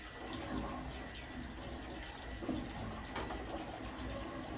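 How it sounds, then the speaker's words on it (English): Strong acidic water pouring out of the bottom hose of a Kangen water ionizer, a steady, soft continuous rush of flowing water with no talking. "So here is a strong acidic water out the bottom hose."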